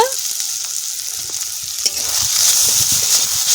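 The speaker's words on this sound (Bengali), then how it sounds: "সব কিছু মশলার সাথে ভালো করে কষিয়ে নেব।" Lote fish curry spices, turmeric, chilli, cumin, coriander powder and salt, being stir-fried in a pan, giving a steady bright sizzle with a few soft scrapes and stirring knocks, loud and close, without any talk.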